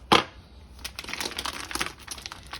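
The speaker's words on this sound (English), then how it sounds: "we get our trusted scissors." Plastic packaging of barrel-aged Greek feta crinkling and snapping as scissors cut it open, a sharp crackle at the start followed by a run of close, uneven crinkles and snips.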